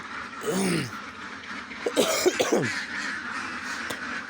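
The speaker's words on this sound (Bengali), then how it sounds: "আমার হাঁসগুলো কিন্তু বুঝতে পারে যে আমি খামারে আসছি তো যার জন্য ওরা ডাকাডাকি করে" Ducks on a duck farm give a few hoarse, close quacking calls in two short bursts, over a low background murmur.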